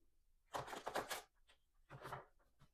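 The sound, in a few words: shuffling heavy cardstock tarot cards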